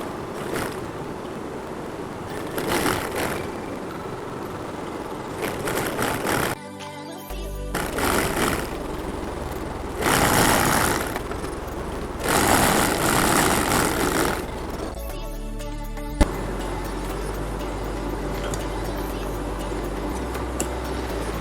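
A sewing machine stitching trouser fabric, its motor whirring in steady runs that start and stop several times, with a loud, close, continuous mechanical drone between brief pauses.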